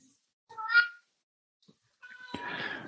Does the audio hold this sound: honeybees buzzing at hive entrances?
no